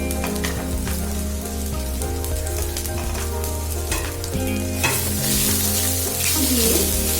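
Cashews fry in a pan with a continuous crackling sizzle and bursts of spattering, with occasional stirring scrapes, close up and loud, with no speech.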